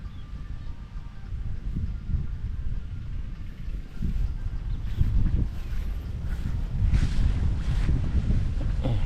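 Gusty wind rumbles against the microphone, swelling and easing in uneven bursts over a continuous low roar.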